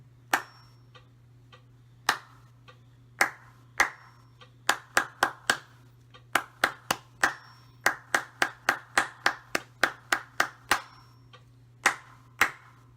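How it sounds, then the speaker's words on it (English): Hands clap out a rhythm in 6/8 time at tempo 104 for a music etude, sharp distinct claps in grouped patterns over a faint steady hum, with soft metronome ticks between. "let's clap this rhythm from measure 1 to measure 4 together"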